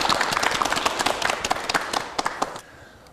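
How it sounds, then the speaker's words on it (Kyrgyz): Studio audience applause on a Kyrgyz TV show, a burst of lively close clapping that thins into a few scattered claps before stopping abruptly near the end. "Кол чаап коелу."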